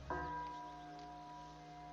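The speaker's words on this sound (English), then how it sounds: "you can hear the little bells ringing in the cemetery" Little bells ring in a cemetery in the Cities: Skylines city-building game: one clear strike with a long, steady ringing tone that holds faint and unbroken over soft ambient background.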